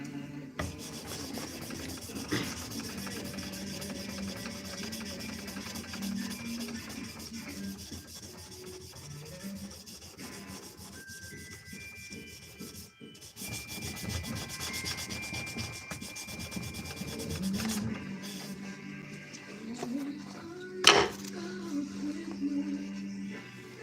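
Forged knife blade being hand sanded with steady back-and-forth rubbing strokes, soft and continuous over a long stretch, with faint music playing underneath.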